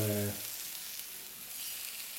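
Beef steak sizzling on a heated Bornholm granite plate, a steady broadband frying hiss that runs throughout, with a brief low hum at the very start.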